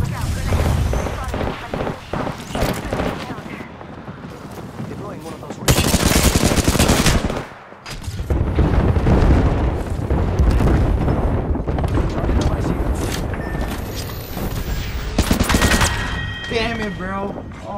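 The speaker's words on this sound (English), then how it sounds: "Look out, grenade." Grenade blast and gunfire in Apex Legends, sustained automatic bursts and loud booms filling the mix, with a player's voice talking over the constant shooting.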